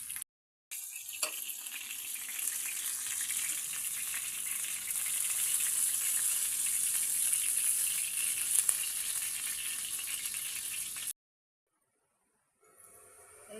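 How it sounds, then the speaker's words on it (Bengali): Kofta balls frying in oil, a soft continuous sizzle with a brief pause near the start, then cutting off abruptly near the end, with no talk. "কোপ্তাগুলো ভাজা হয়ে গেছে।"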